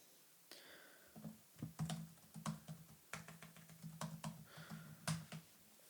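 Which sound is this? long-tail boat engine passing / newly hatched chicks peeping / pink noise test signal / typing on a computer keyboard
typing on a computer keyboard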